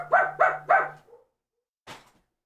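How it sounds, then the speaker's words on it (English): A dog barking three quick, close barks in a row, followed by a short pause and one faint softer sound. "And my dog will not stop barking."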